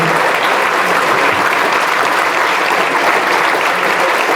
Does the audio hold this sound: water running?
no